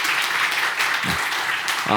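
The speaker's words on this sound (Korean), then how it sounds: "다시 한번 따뜻하게 박수 해주시기 바랍니다" A church congregation applauds warmly after a prayer in a Sunday morning service, a broad wash of clapping that fills the space before the next speaker begins.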